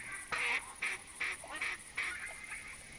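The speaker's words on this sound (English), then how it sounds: "I just spam the caller. I don't let it go through the full sequence of duck calls" A duck caller sounded in the hunting video game theHunter Classic, giving about six quick nasal quacks in an uneven rhythm, close and clear over a quiet background.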